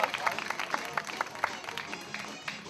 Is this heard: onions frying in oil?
no